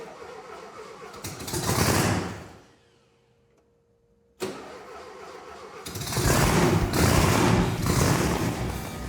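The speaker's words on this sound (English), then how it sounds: "I love the sound of Volkswagen engines." A Volkswagen engine with a blower on a dune buggy cranks and revs, falls quiet for a couple of seconds, then fires up and runs loud and rough close by.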